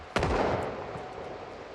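One sharp gunshot cracks in the video game Project Zomboid, with a booming tail that slowly fades, fairly distant.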